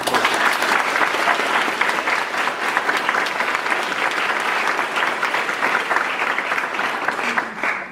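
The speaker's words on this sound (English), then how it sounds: "So if we could just give them a round of applause." An audience at a University of Vermont event claps loudly and continuously for several seconds, a dense even wash of applause that tapers slightly at the end.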